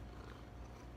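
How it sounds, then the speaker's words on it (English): A cat purring contentedly while being groomed, a soft low continuous rumble close to the microphone, faint and steady with no talking. "Purring like crazy."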